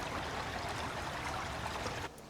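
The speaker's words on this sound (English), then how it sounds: "There's a small creek with the sound of running water." Running water in a small woodland creek rushes steadily and close, a dense continuous babble that cuts off abruptly at the end.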